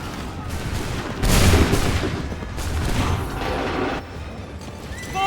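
Musket volley on an Assassin's Creed III battlefield, a loud crackling burst of massed gunfire with booming low rumble, then continued rolling battle noise fading and swelling again.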